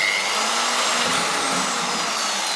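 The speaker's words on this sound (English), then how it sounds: "So now, drill the holes." A power drill whirs continuously as it bores holes through the bottom of a wooden box in a workshop, a loud, steady high-pitched motor drone with no talk.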